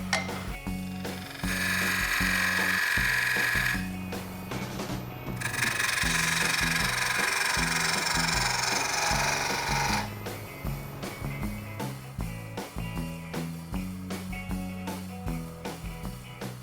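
Hand-cutting a tenon in a paraffin-dipped wooden block for a bird feeder, with two long stretches of steady rasping strokes followed by quieter rhythmic scraping, close up and alone.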